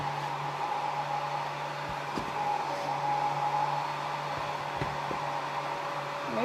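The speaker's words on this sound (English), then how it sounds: "Maybe my hairdryer is just not as hot as it was." Steady whooshing drone of a hair dryer heating parts of a Smart Doll during assembly, running continuously at close range, with a few faint clicks and bumps over the airflow.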